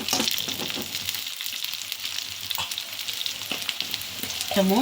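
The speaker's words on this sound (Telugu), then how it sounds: "నెక్స్ట్ మనము ఒక టూ పచ్చిమిరపకాయలు కట్ చేసి వేసుకుందామండి ఇలా కలుపుకుందాము" Chopped green chillies tossed into browned onions in hot oil for a Telugu taro root stew, a steady close sizzle with scraping stirs throughout, no voices.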